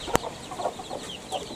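Chickens cluck softly in a coop where hens and chicks are kept, several short calls scattered over a steady background, with one sharp knock near the start.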